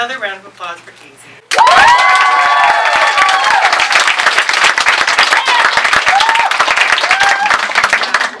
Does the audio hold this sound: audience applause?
yes